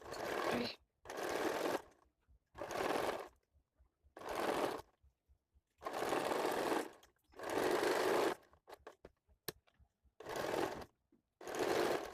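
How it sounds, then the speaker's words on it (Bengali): A sewing machine stitches along a blouse neckline in repeated short runs of rapid whirring, each lasting about a second, separated by quiet pauses and faint handling clicks, close and clear with no voices. "এবার আমি সব দিক থেকে ঘুরিয়ে উপর থেকে সেলাই দিয়ে দেবো"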